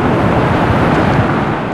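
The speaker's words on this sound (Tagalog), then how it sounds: "umihip na uli yung hangin" Strong wind blowing steadily in a rainy, stormy spell, a loud, continuous broadband roar that buffets the microphone with no pauses or voices throughout.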